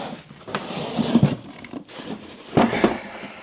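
A drawer slides out of a mobile workbench with wooden rubbing and scraping. Two bursts of loud friction come close up, the second heavier, with a short pause between them.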